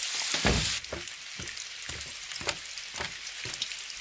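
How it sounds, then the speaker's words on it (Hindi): Rain falls in a steady dense patter with scattered sharper drops striking a surface, even and close, with no voices. "अरे बारिश शुरू हो गई"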